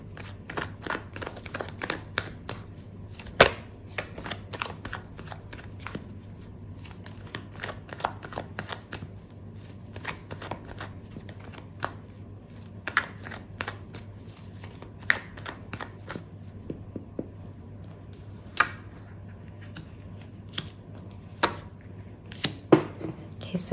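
Tarot cards shuffled and handled in a quiet room, a long run of soft riffling snaps and taps close by with occasional louder clicks and almost no talking.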